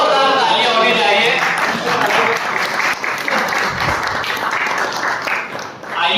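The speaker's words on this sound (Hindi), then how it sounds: "जोरदार तालियां होनी चाहिए।" An audience at an Urdu literary gathering breaks into loud, sustained applause that swells and dips over several seconds, with voices audible beneath the clapping.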